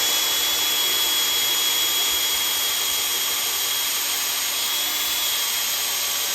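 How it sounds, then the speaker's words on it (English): A power drill spins steadily under load while priming the oil pump of a freshly rebuilt Ford 302 small-block V8 from a 1970 Falcon, a constant close whine with a faint grinding edge and no talking. "Definitely getting a lot of resistance on the drill right now."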